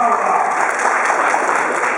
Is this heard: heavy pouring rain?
no